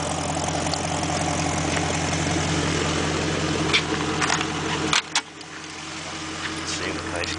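A car engine runs steadily with a low, even drone inside the cabin as the car sets off, holding constant before a brief knock, then continuing more quietly.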